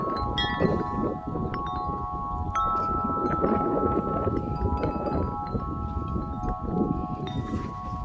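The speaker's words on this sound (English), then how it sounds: "It's always windy out here." Gusty outdoor wind on a ranch buffets the microphone in a steady rushing roar, with faint tonal hums and a few light clicks in the background.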